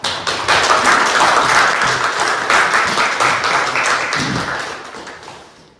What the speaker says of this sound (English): I want you to welcome with a big round of applause Cătălin Bolan